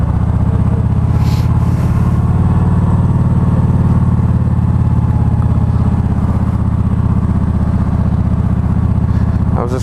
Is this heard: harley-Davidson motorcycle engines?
yes